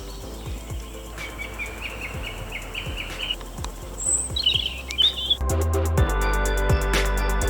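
Birds sing in English woodland at Stourhead Estate, with wrens trilling and chirping nearby, crows among them, and faint bursts of calls throughout. Wind or handling noise grows louder toward the end.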